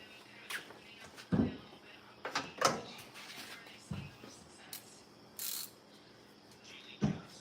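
Bolts being tightened with a ratchet during a car head gasket replacement: scattered short mechanical clicks and clacks come in separate bursts, fairly close, with quiet gaps between them.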